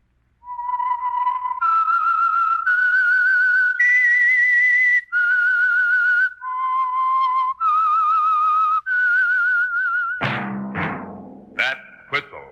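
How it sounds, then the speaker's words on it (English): A melodic whistled theme opens the 1948 radio mystery program The Whistler, a clear, loud tune of sustained, slightly wavering notes stepping up and down, ending as orchestral music swells in. "That whistle is your signal for the Signal Oil program, The Whistler."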